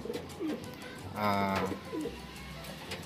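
Racing pigeons coo in low, throaty bursts, one stronger call in the middle with softer coos around it, close by with no talking.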